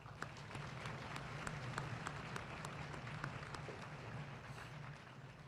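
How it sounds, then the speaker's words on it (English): Applause from a crowd at a military battalion graduation ceremony, a steady, fairly faint wash of distant clapping sustained evenly throughout. "Please join me in a round of applause for my cadre."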